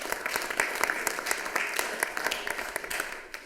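Applause at a city council meeting from a sizable crowd, steady dense clapping that fills the whole stretch at moderate volume, with a few sharper individual claps standing out.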